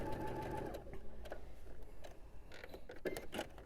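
A sewing machine with a quarter-inch foot stitches a quilt block, a soft rapid mechanical whirring punctuated by clicks and brief pauses, heard close and quiet.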